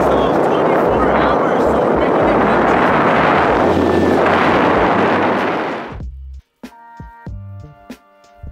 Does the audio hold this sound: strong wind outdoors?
yes